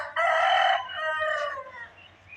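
A single rooster crows once, a clear nearby cock-a-doodle-doo trailing off, with quiet background hum.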